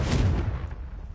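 A Confringo blasting spell explodes in a Harry Potter video game: one deep, booming blast that rolls out and fades over about a second.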